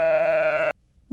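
A single loud sheep bleat, a wavering nasal cry lasting under a second, followed by silence and the start of another sound at the end.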